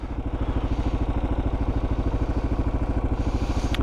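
A Kawasaki KLR650 first-generation motorcycle with 2,929 miles idles steadily, its single-cylinder engine thumping in a fast, even, loud rhythm close by, with no voices over it.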